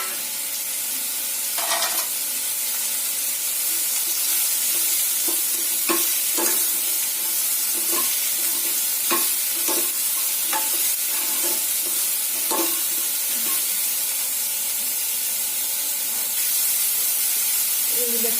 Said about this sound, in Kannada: ಈಗ ಈ ಮಶ್ರೂಮ್ ಕಟ್ ಮಾಡಿ ಇಟ್ಕೊಂಡಿದ್ನಲ್ಲ ಇದನ್ನ ಹಾಕಿ ಫ್ರೈ ಮಾಡ್ಕೊಳ್ಳೋಣ.